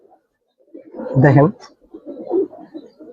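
Giribaz Silver pigeons give a short, throaty coo, one close burst amid soft murmuring, while someone speaks briefly over them.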